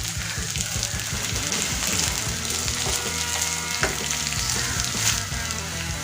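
Beans and carrots sautéing in hot oil with green chillies for dosa upma, a steady loud sizzle and crackle with occasional stirring scrapes, close and alone without talk.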